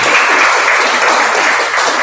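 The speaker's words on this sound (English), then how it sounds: "Give her a round of applause." Dense, loud applause fills a seminar room, a continuous wash of many hands clapping with no break.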